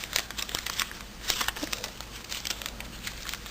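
Paper being creased and folded into an origami flapping bird, a close run of soft crinkles and crisp rustles that keeps up steadily throughout.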